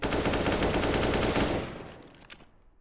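Rapid automatic gunfire from the video game CS:GO rattles loudly in a dense, continuous burst, then cuts off and trails away into fading echoes and a couple of faint distant shots.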